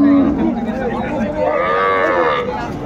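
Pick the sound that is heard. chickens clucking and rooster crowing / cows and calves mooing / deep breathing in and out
cows and calves mooing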